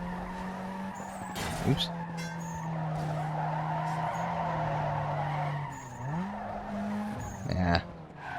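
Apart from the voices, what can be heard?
car spinning out and skidding, Need for Speed Underground 2 video game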